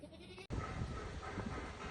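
A dairy goat bleats loudly and close by in one long, wavering call after a brief pause, with faint background noise.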